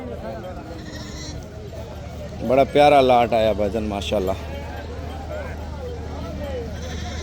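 Goats bleat at a busy livestock market in Pakistan, one loud close series of wavering bleats rising for about two seconds over a murmur of crowd noise, with people talking nearby.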